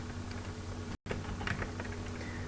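Faint, quiet clicks of typing on a computer keyboard while entering program code, soft keystrokes over a steady low hum.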